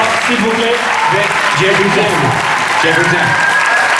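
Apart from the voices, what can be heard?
audience applause at a panel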